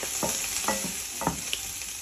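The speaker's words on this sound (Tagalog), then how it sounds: "Pwede natin lagyan ito ng magic sarap. Habang ginigisa-gisa." Milkfish sautés in a pan with a steady sizzle, while a utensil scrapes and stirs in several short, close strokes.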